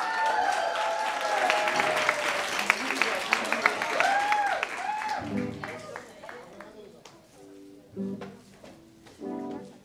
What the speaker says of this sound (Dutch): Groot applaus ook.